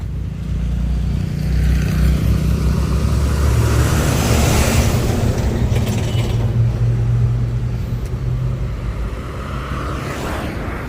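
Cars going by on a roadside near a river, a steady loud rumble of traffic with engine drone and mechanical rattling continuing throughout, rising as vehicles pass close.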